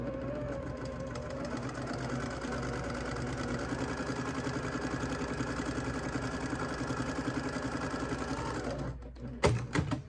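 A sewing machine stitching quilt fabric for half-square triangles runs in a fast, steady mechanical chatter for about nine seconds, then stops with a few clicks and handling knocks.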